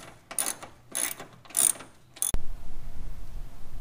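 Ratcheting and clanking as a bolt-on bracket is fastened to the cross member of a non-turbo Subaru being turbocharged, with bursts of rapid mechanical clicks, then a sharp knock followed by a steady low rumble.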